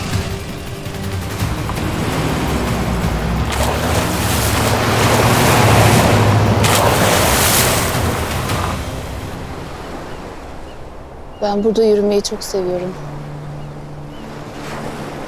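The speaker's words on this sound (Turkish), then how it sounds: "Denizin kokusu, dalgaların sesi bir yandan." Sea waves wash onto the shore in a continuous loud surge with wind noise. The roar swells and then fades, and a person speaks briefly near the end.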